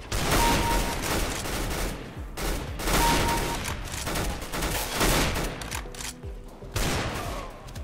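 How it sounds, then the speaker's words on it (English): Dense, loud automatic gunfire in CS:GO keeps up almost without pause, with bursts overlapping into a continuous clatter and only brief dips near the end. "Let's fill it full of gentle bullets."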